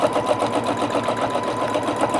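A sewing machine stitching ruler-work quilting runs steadily up close, with a fast even mechanical chatter throughout and no talking.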